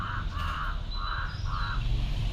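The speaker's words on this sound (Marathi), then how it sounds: "ओरडत आहेत नुसते कावळे" Crows caw repeatedly in an outdoor setting, about four harsh calls in a steady rhythm over a low background rumble.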